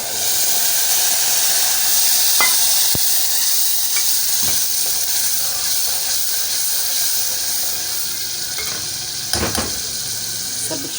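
A sauce for dried molokhia fries in a pot with a steady, close sizzle and hiss, broken by a few faint clinks of a spoon against the pot.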